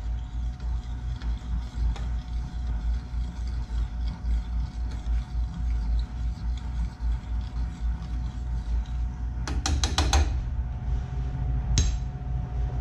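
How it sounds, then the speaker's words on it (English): A seasoned duck dish stirred with salt and pepper, soft continuous scraping and stirring sounds up close, with a couple of brighter clinks of utensil on the pan near the end. "Stir that up."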